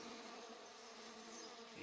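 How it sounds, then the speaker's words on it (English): Stingless honey bees swarm over sugar feed, a steady, close, busy insect buzz that holds for about two seconds with no talking. "You see all them bees frantic over this thing?"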